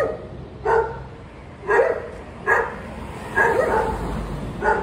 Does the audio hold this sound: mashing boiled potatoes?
no